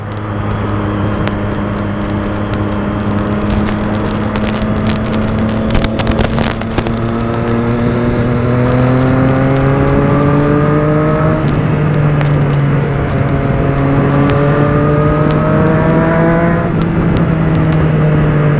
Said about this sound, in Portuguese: Ah, minha moto tá estranha.